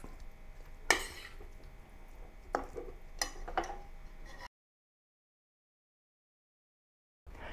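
Bombay potatoes with chopped coriander and dried fenugreek leaves get a final stir in a pan, a few close metallic spoon scrapes and clinks over a faint background. The sound then cuts to silence before briefly returning.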